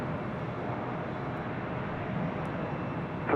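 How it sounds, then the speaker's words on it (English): A Delta Airbus A350 jet taxis toward the Terminal 3 gates on the north side of LAX, a steady distant engine roar that holds evenly throughout with no voices. "As you see the Delta A350 making her way more than likely to the gates of Terminal 3 here on the north"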